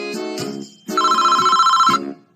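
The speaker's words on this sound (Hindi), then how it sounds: "अरे यह किसका फोन बज रहा है?" A mobile phone rings in a courtroom: a bright electronic ringtone plays in two bursts, the second one long and steady, loud and close with no talking over it.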